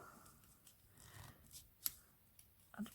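Scissors cutting ribbon make faint, quiet snips and rustles close by, with a couple of small crisp cuts standing out against low background noise.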